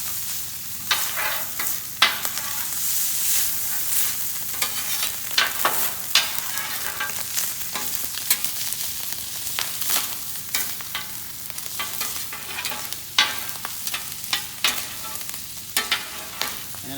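Onions frying on a flat top grill, a steady loud sizzle with scraping and stirring clicks from a spatula throughout, close up with no talking.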